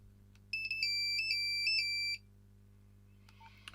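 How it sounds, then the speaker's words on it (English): A 1998 Nokia 5110 phone playing its classic Nokia tune, Grande Valse, as a single bright electronic melody of quick beeping notes lasting under two seconds, followed by near silence and a few faint handling clicks. "they did call the Nokia tune by what I imagine was its original kind of title, which was Grande Valse"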